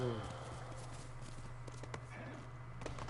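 Hooves clip-clop rapidly as a horse gallops in Ghost of Tsushima, quiet rhythmic footfalls over a low steady game hum, with a brief higher tone at the start.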